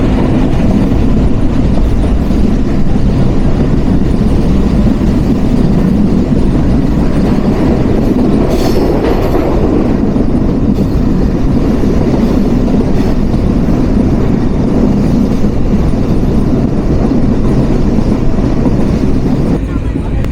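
The Chitra Express intercity train runs along the rails with a loud, constant rumble and rattle of carriages, a steady roar sustained for the whole stretch with no pauses.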